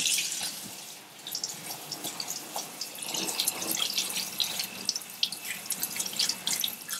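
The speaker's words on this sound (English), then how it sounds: "And now I'm just going to shower this with some cold water." Cold tap water showering over strained pork ribs in a metal strainer, a continuous splashing stream with irregular drips and spatters, close and steady throughout.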